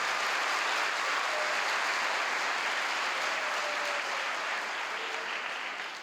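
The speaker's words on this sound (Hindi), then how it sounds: "जितने लोग हैं मुझे तालियों की आवाज़ कम नज़र आती है और महसूस होती है।" Sustained applause from a church congregation at a New Year Day service in a parish in Gujranwala, a dense steady clapping wash that fills the whole stretch and tapers slightly at the end.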